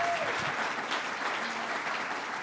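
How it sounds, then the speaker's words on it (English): A crowd at a governor's press event gives a round of applause, dense, continuous clapping filling the room at an even level, with faint voices beneath. "Let's give her one more round of applause."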